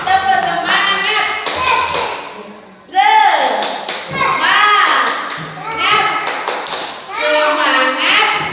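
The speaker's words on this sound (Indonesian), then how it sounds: "kita tepuk semangat dulu ya. Tepuk semangat." A group of children in a classroom perform a rhythmic spirit clapping routine, bursts of claps in patterned beats alongside loud chanted voices and a teacher's lead, energetic and close.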